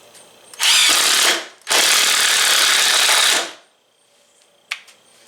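A Hart impact driver drives a screw in two loud bursts of rapid hammering clatter, the first about a second long and the second about two seconds, ending with a faint click.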